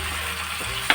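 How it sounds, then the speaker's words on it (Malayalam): Masala mixed with water poured into a hot frying pan for a karimeen (green chromide) fry with coconut milk, giving a steady close sizzle with a short louder splash near the end. "ഒഴിച്ചതിന് ശേഷം അതിനകത്തോട്ടൊന്ന് ഒഴിച്ചു കൊടുക്കുക."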